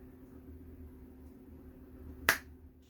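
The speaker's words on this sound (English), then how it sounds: "I'm going to snap my fingers" A single sharp finger snap rings out once near the end over a quiet, faintly humming room, crisp and close, with nothing else happening around it.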